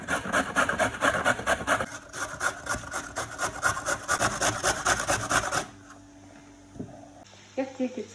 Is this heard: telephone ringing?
no